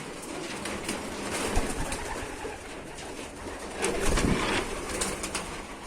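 Many pigeons coo together in a dense, continuous murmur, close by, with soft rustling and occasional wing sounds inside a pigeon loft.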